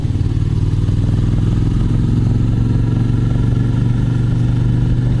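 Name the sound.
Suzuki Gladius 400 motorcycle engine climbing in fourth gear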